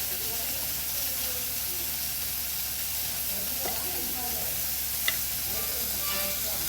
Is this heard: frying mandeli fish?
yes